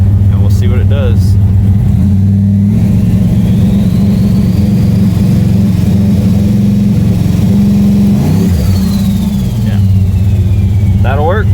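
LS engine in an S10 pickup on an MSD 2-step launch control, running at a steady loud rumble with rising revs and brief pops, close and continuous, with a voice briefly over it.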